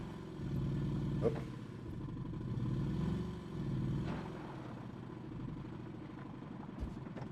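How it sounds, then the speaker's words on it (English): A 4x4 RV engine brakes steadily while heading downhill, a low droning rumble that rises and falls gently, with a brief clunk partway through and faint talk. "Engine brake."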